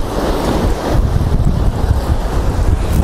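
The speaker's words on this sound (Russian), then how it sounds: "Вот так волны бьются и уходят." Sea waves surge and break on a pebbly winter beach at Katsiveli in Crimea near a half-built structure, a loud continuous roar of surf under strong wind buffeting the microphone, with no talking.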